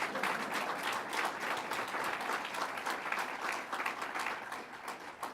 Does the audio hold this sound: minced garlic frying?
no